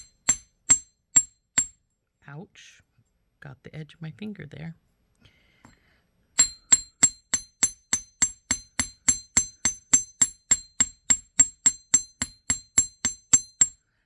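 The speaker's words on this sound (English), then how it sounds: "And our hammer, and we're going to start hammering this piece." A hammer strikes a metal earring piece on a steel block while making mushroom hoop earrings. A few sharp metallic taps come first, then a pause with a short spoken remark, then a long, steady run of crisp, evenly spaced blows close by.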